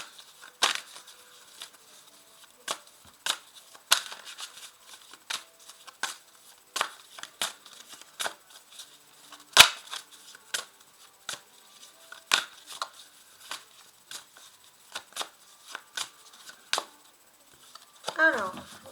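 A deck of oracle cards being shuffled and cut, giving a string of sharp, dry card snaps and flicks spaced irregularly across the stretch, close and fairly quiet, with a soft voice briefly at the very end.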